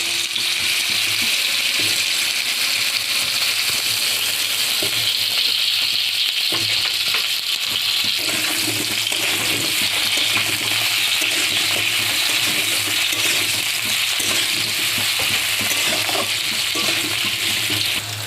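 Potato pieces fry in oil left from frying eggplant, a steady close sizzle and hiss running continuously with occasional stirring scrapes, no voices.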